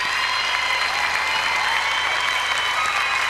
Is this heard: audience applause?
yes